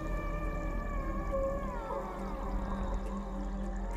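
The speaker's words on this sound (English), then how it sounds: "these oceanic beings walking among us were once upon a time known as whales" A whale calls with long, gliding, tonal moans and whistles that bend in pitch, layered over a constant low rumble of water.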